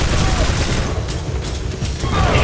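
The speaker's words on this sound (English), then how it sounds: "an explosion at your feet blows out your eardrums" An explosion in the 2008 Turok video game, a dense, loud blast of noise that stays thick and roaring for the whole two and a half seconds.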